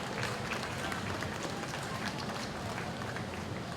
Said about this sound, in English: let's give them all another big round of applause for a great heifer show this afternoon here